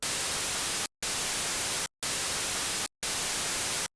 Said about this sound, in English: So we have indeed created binary white noise.